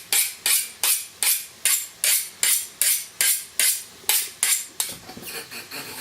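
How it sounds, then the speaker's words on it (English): A kitchen knife is honed with about a dozen evenly spaced, bright metallic scraping strokes, each swelling and fading, before the rhythm breaks into quieter, softer scrapes near the end. "Just get that knife sharpened nicely."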